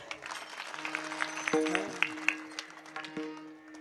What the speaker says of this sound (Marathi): यांच्या करता टाळ्या वाजा